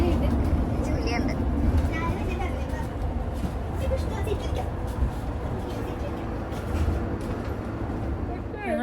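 Inside a nearly empty moving bus, a steady engine rumble and road noise with faint rattles, while a person talks over it.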